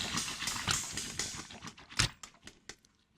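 An Orbeez-like squishy toy being squeezed close up, giving a run of wet, watery squishes and crackly pops that thin out into sparser, separate squelches toward the end, with no talking.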